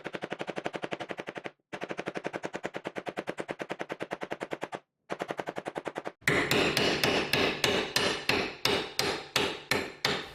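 A hammer against screws and nails driven into wood: three long runs of rapid, evenly spaced rattling strikes separated by short pauses, then louder, heavier blows repeating at a slower steady pace.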